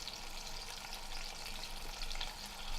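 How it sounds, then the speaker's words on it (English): Fish shallow-frying in heated oil, a steady close sizzle with crisp spitting pops that continues evenly throughout, with no one talking. "Once the oil has heated up a bit, put the fish in"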